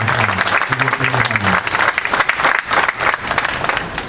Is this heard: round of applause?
yes